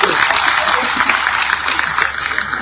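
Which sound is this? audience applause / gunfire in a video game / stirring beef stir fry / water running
audience applause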